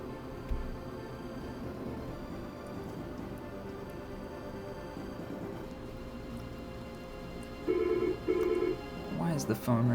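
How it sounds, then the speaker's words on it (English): Telephone starting to ring near the end, two short repeated electronic ring bursts after a long stretch of quiet room noise with low background talk. "Why is the phone ringing?"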